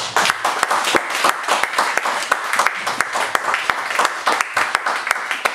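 A church congregation claps in praise, a dense, fairly close burst of applause with sharp rhythmic hand claps standing out throughout, voices mixed in underneath.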